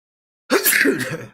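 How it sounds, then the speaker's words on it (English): A single sneeze bursts out close and loud after a moment of silence, then trails off quickly. "Wanted to sneeze."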